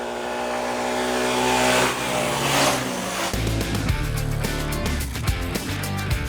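A Bajaj Discover 150 motorcycle engine on a road test hums smoothly, its steady tones shifting partway through as revs change, with a few clicks and knocks over a constant road noise bed and no talk.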